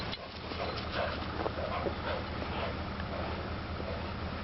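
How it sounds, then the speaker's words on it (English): Dogs out in the snow whimper and yip continuously over a steady rush of background noise, close by and fairly loud. "Good dogs."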